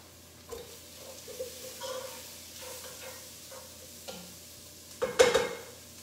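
Garlic and mixed greens are stirred in a pan: soft scrapes and light sizzling with a few utensil ticks, ending in a louder clattering stir near the end, no talking.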